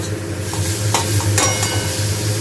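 Steady sizzle of spices frying in a pan for oats, with a few soft scrapes and clinks of stirring over a low background hum.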